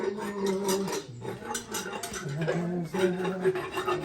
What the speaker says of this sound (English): Filing going on.